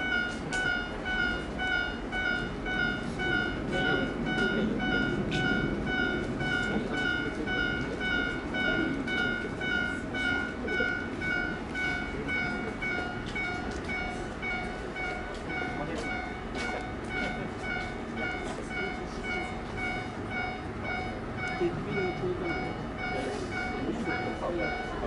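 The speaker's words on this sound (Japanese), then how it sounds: "ただいまこちらの前列車が通ります" An Evangelion-wrapped train on the Tenryu Hamanako Railway rolls past during a departure ceremony, a steady, continuous rumble of wheels and cars lasting throughout, with a voice talking over it.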